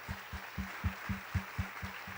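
A church congregation claps in unison, about ten even, rhythmic beats at a steady tempo, each a soft, low thump heard slightly distant in a reverberant room.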